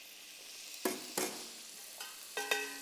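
Tomatoes sweat in a hot pan, a soft background sizzle broken by a few sharp clinks of a utensil against the pan, close and quiet with no talking.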